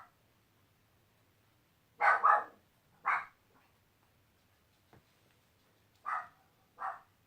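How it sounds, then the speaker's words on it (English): A small dog yaps repeatedly in spaced single barks, four or five sharp, moderately loud yaps with quiet pauses between, close by and with no talking. "I have a yappy little dog."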